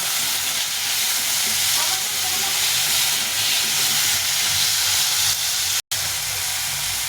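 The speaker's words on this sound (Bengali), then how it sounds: "এই টমেটোটা দিয়ে দেবো টমেটোটা ভালো করে ভেজে নেব" Tomatoes frying in a pan for a soybean curry, giving a steady, loud, close sizzle that runs unbroken throughout with no talking.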